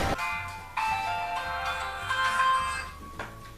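A mobile phone rings with an incoming call, its melodic electronic ringtone repeating in short tonal phrases with a steady pulsing beat, fairly close and clear with no voices over it.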